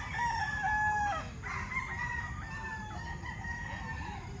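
A gamefowl rooster on a breeding farm crows once, a loud drawn-out call close by, followed by softer clucks and distant crowing amid steady farmyard background noise.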